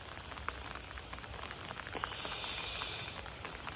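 Steady light rain hisses softly on surfaces, with a brief brighter patch of spray partway through and scattered faint drips.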